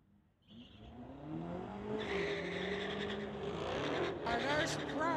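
Drag race cars at the strip, including a 2022 Hellcat, roar past with rising engine revs and a tire squeal, heard loudly beneath an announcer's talk.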